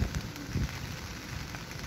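Steady rain falls at an outdoor work site where labourers dig pits for tree planting, a dense close patter on surfaces that stays continuous with no voices.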